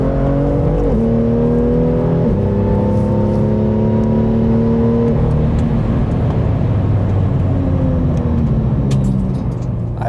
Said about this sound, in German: ansonsten gibt man noch mal kurz ein bisschen Gas